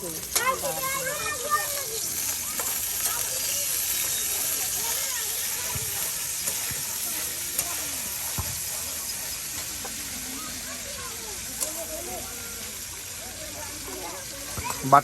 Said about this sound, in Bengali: এই যে তেল দিয়ে দেওয়া হলো দেখুন এই দেখুন বাগার দেওয়া হচ্ছে